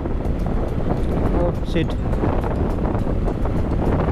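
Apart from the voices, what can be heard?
strong wind noise while riding a motorbike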